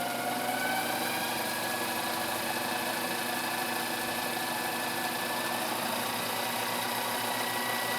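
A G0765 7x14 mini lathe runs steadily in low gear with a 4-jaw chuck fitted, giving a continuous even mechanical hum with a slight vibration throughout and no talk.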